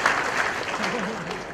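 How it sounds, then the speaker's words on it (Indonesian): An audience at a community halal bihalal gathering claps in a brief burst of applause, moderately loud and close, with a voice talking over the clapping. "Tepuk tangan buat ikan."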